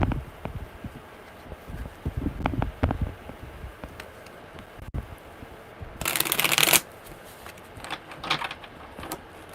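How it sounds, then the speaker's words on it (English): Tarot cards are shuffled by hand in bursts of riffling and sliding, close and crisp, with a louder flurry partway through and quieter handling between. "one more good shuffle"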